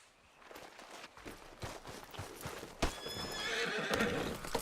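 Hooves clip-clop steadily as a horse walks in Red Dead Redemption 2, with a whinny along the way; the footfalls are close and grow louder toward the end.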